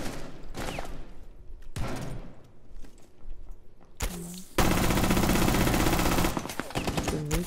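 Gunfire in the tactical shooter Rainbow Six Siege: a few sharp single shots, then a loud sustained automatic burst of about two seconds, followed by more quick shots and game ambience.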